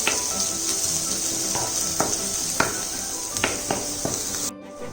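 Onions frying with a pinch of salt in a pan, a steady close hiss of sizzling with occasional clicks and light knocks of a utensil against the pan, cutting off abruptly near the end.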